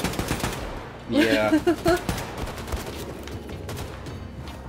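Rapid gunfire from the Wolfenstein II video game, a short burst of shots over game sound and music, with a brief spoken word.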